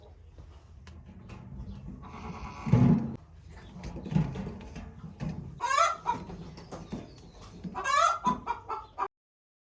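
Chickens cluck and squawk close by in a farmyard, a few loud bursts of clucking and cackling over a low background murmur, with quieter calls scattered between them.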